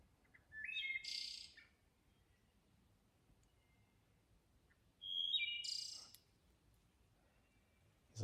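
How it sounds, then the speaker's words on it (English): Two separate phrases of wood thrush song, each a short rising flute-like whistle ending in a buzzy trill, ringing out close by outside a tent on the Appalachian Trail against quiet background. "It's a wood thrush."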